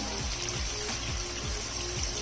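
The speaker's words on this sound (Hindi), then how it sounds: "और जिस बाउल के अंदर हमने इसको मैरिनेट किया था उसमें 2 टेबलस्पून के करीब मैंने पानी डाल दिया" About two tablespoons of water splashed from the marinade bowl into a pan of frying lemon pepper chicken, a soft continuous pour and trickle over steady sizzling, with no voices.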